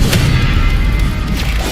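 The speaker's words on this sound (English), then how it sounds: "Another mortar thrown at us." A mortar shell explodes in the Wuthering Waves video game, a loud, dense low boom with rumbling thuds that fill the whole moment, with no voices over it.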